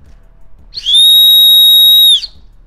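A whistle attached to the heel of a New Balance 574 YURT x Salehe Bembury "Black Plum" sneaker gives one loud, sustained, shrill blast of just over a second in an otherwise quiet room.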